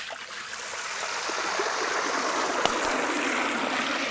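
Water pours into a pot for boiling Hakka noodles, a steady rushing splash that builds slightly and holds, fairly quiet, with no talk.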